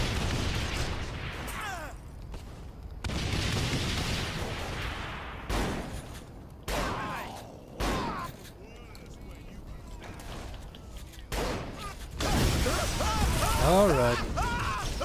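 In a video game, explosions and weapon fire go off in repeated sharp bursts, some rapid and clustered and others separated by brief lulls, with mechanical clanks and a voice faintly heard between them.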